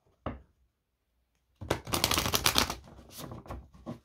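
A deck of cards is shuffled close by: one sharp snap, a short pause, then a rapid riffling burst of fluttering card clicks that tapers off into a few final taps.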